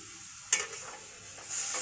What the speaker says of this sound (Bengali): এবারে একটু জল দেবো, অতটা দেবো না